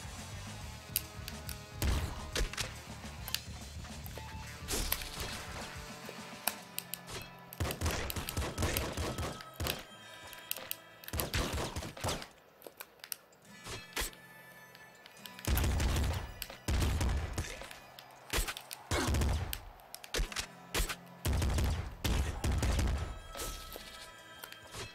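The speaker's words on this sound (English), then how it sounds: "Machine gun." Machine gun fire in the top-down shooter Nuclear Throne, coming in repeated rapid bursts and clusters of loud shots mixed with impacts and explosions, with pauses between volleys.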